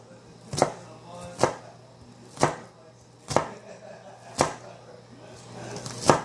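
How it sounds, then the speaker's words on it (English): A knife slices through an onion on a cutting board in six evenly spaced, crisp strokes, each a sharp thud against the board, close and clear with no one talking. "it's always good to cut an onion at an angle, so it'll help you get nice even cuts"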